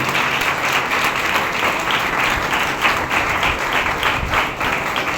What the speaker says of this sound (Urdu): آئے زوردار تالیاں بجائیں خدا کے جلال کے لیے